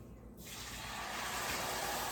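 Water pours steadily into a pot for Mexican rice, a continuous rushing splash that swells slightly louder as it goes, with no talking.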